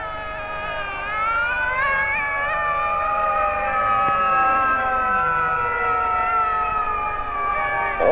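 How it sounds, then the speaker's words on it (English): A 1950s fire engine siren wails steadily, its rising and falling tones sounding loud and close and holding on without a break. "The siren shrieks"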